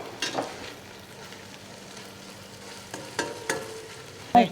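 Onions and green pepper sizzle gently in oil in a pan, a soft steady frying hiss broken by a few clinks and scrapes of stirring, nobody talking over it.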